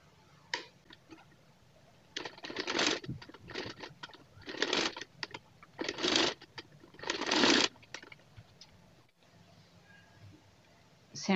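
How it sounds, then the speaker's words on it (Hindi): Sewing machine stitching a chicken trouser, several short, fairly quiet bursts of running separated by brief pauses. "अब इसकी सिलाई लगा लेते हैं।"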